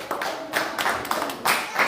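Clapping from an audience at an evening Ramadan welcome gathering, a short run of fairly close, uneven claps that come in distinct bursts.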